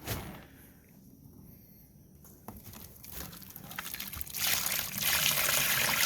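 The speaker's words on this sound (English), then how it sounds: "It's ready to pour. We got our container all greased up." Melted ballistic gel pours into a greased container, a faint trickle that swells into a louder, rushing, splashing flow over the last couple of seconds, nearby and with no talk.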